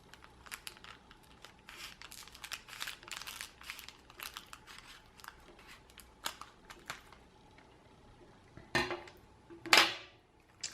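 Scissors snip through a plastic refill pouch up close amid crinkling plastic, with a series of short cuts and rustles and a louder crunch near the end.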